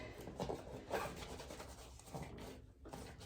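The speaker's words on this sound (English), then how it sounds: "I'm just gonna take my hands and gently scrub" Hands scrub an old cross stitch fabric during washing, giving soft, uneven rubbing and rasping strokes in short bursts, quiet and close, with no voices.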